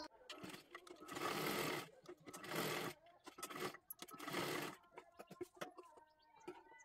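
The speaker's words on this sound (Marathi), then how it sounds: "आता इथे आपल्याला शोल्डर जोडून घ्यायचा आहे. अशा पद्धतीने ठेवून घ्यायचं आहे बघू शकता इथे आणि डबल शिलाई मारून घ्यायची आहे." An electric sewing machine runs in three steady whirring bursts, double stitching the shoulder seam of a fancy dress made from a saree, with short pauses and light handling clicks between runs.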